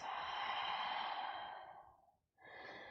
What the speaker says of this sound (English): And a breath out.